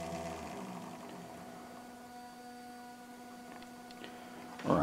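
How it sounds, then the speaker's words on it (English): Small electric motor under H-bridge speed control running slowly, a steady low hum with faint ticking, close and quiet, ending in a brief louder rustle. "Or I can bring the motor down to a crawl, as you can see there."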